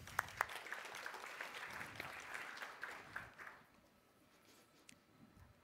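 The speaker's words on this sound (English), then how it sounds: "Round of applause." Moderate applause from a crowd at a startup pitch stage event, with a few sharp individual claps early on, fading out after about three and a half seconds into quiet room tone.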